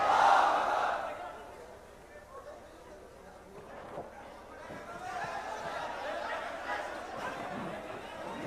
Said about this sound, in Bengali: আমরা তাকবীর দিয়ে তাকে স্টেজে স্বাগত জানাতে চাই।